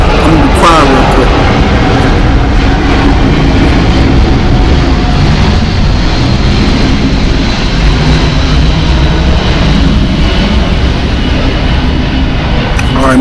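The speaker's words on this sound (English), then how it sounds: "hold up, this fucking plane going by" An airplane passes overhead as a loud, continuous low roar that fills the whole stretch, steady and close.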